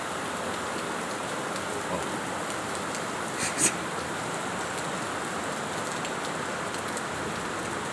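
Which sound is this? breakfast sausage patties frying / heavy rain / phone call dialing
heavy rain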